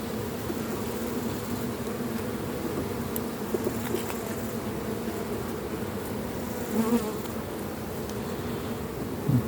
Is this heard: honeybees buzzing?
yes